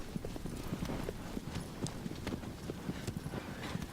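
A horse gallops in the video game Shadow of the Colossus, its hooves beating a fast, steady clip-clop rhythm throughout, close and fairly loud, with no voices.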